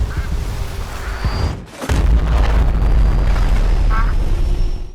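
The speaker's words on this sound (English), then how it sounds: "So shooting the sun with a golden slug nukes the whole place inside the game." A loud, broad explosion roars through the VR game Duck Season after the sun is shot with a golden slug, a nuke blast that follows a short dip and then sustains a dense rumbling wash to the end.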